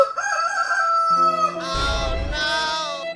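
A cartoon rooster crows loudly and close by, one long drawn-out call with a rough, strained ending.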